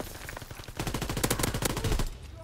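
Rapid automatic gunfire from a World War II-era weapon in Call of Duty WW2, a loud burst of regular shots that thickens into a dense stream before stopping abruptly, with no talking.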